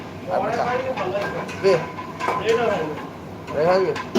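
A metal karahi wok is picked up and handled, giving a few sharp metallic clanks and scrapes close by. People talk over the clatter throughout.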